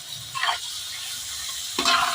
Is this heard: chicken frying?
yes